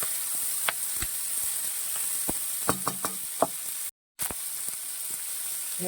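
Green beans and green chillies fry in a pan for a payar mezhukkupuratti, with a steady sizzling hiss and scattered light knocks and scrapes from stirring.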